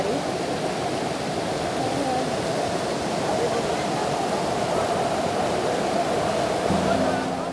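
Steady, loud rush of a river flowing near Ahupe waterfall in the Sahyadri hills, a dense continuous water roar that holds evenly throughout with no pauses.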